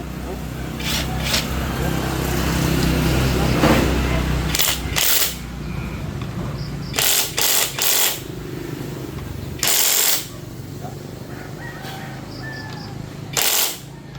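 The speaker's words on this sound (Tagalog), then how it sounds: "Electric siya na impact." An electric impact wrench fires in several short, loud, harsh bursts of hammering over a steady low background rumble, with quiet gaps between the bursts.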